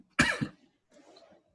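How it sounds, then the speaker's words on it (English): A single person's cough: one sharp, close burst with a short second pulse, followed by a fainter throaty rasp, in an otherwise quiet room. "I've just got that cough"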